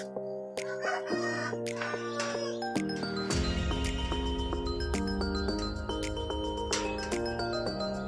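Egg-laying hens cluck close by while a rooster crows at a poultry farm, with overlapping calls and a steady background of farmyard noise.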